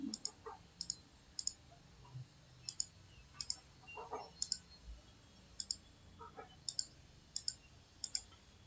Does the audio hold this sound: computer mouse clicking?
yes